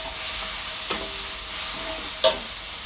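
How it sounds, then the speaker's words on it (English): Chili, onion and garlic stirred and frying in a wok, with a steady low sizzle and two sharp scrapes of the utensil against the pan, no talking. "Here we have chili and also onion, garlic, and then stir well in the wok."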